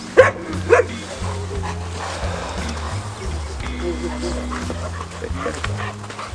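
Several dogs bark and yap in short bursts, with a louder pair of barks at the start, over steady background noise and a low droning hum.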